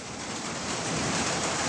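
Steady rain falling on and around a 2003 Blue Bird All American bus, a continuous dense hiss with no pauses or voices.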